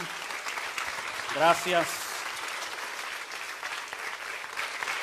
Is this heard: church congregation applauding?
yes